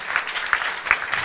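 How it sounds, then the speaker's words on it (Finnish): An audience claps for a band at a rock event in a brief, dense burst of applause that is loud and close. "Aplodit myös heille."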